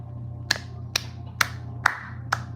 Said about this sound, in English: That one gets a clap.